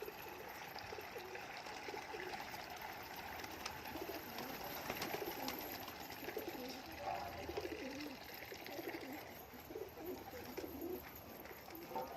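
Pigeons drinking from a water dish, faint soft coos and light trickling water over a steady hiss of background noise, continuous and fairly quiet throughout.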